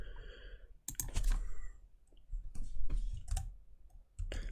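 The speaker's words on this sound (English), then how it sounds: "Let me just get my keyboard working." Typing on a computer keyboard in short clustered bursts of dry clicks, close and fairly quiet, separated by brief pauses with no talking.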